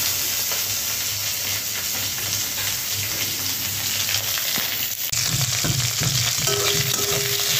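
Chopped onion frying in hot oil with five-spice, a dense, steady sizzle up close with stirring knocks and scrapes, growing louder partway through.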